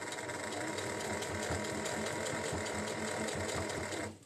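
Sewing machine stitching a lining into a crocheted granny square tote, a rapid steady mechanical rattle running for about four seconds before stopping.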